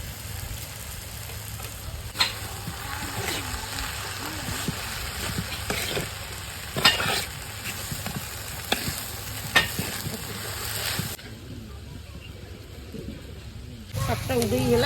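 Leafy greens stir-fried with chili powder in a pan in a village kitchen, a steady close sizzle with scraping stirs throughout, a low hum underneath, and a brief quieter stretch before the frying resumes.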